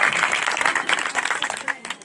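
A congregation at an outdoor tent gathering in Pakistan claps loudly in uneven bursts, close and energetic, with voices mixed in among the clapping.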